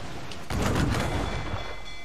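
Ship cannons in Assassin's Creed IV Black Flag go off in a heavy, booming volley with a rumbling low-end burst that swells midway and rolls on.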